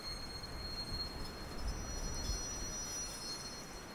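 Highland Express steam train rolling along, a low continuous rumble of wheels and carriages with faint high squealing tones over it, steady and moderately distant with no talking.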